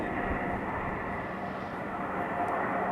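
A JetBlue airliner climbing out after takeoff from Raleigh-Durham International, its engines a steady, broad roar with no pauses or voices across the whole stretch.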